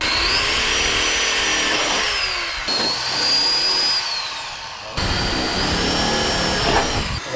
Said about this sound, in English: we drilled with our small bit through this point, and then we also drilled with the 5/16